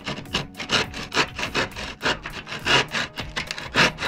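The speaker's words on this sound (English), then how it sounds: "for that I'm going to need a saw" A hand saw cuts through a wooden loft board in a steady back-and-forth rhythm, each rasping stroke close and clear with no talk over it.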